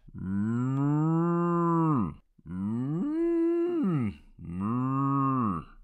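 Cow mooing in three long, loud, drawn-out calls close to the listener, each separated by a brief pause, with no other sound alongside.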